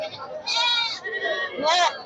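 A Black Bengal goat bleats twice at a livestock market, with two loud, close, wavering calls separated by a brief pause.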